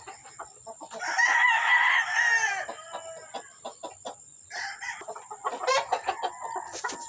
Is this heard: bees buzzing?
no